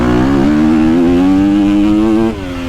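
A KTM 250 SX-F motocross bike's engine revs loud and close, holding a high, buzzing pitch for a couple of seconds before dropping off at the end.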